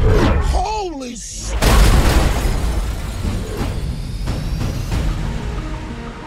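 A bomb explosion in the Fast & Furious 8 movie trailer: a heavy, loud boom with a rumbling tail following a brief spoken line, then sustained low roar and debris noise.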